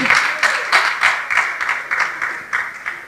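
A studio audience at a Congolese talk show applauds as a second columnist is welcomed, steady broadband clapping with a few louder bursts and no voices over it.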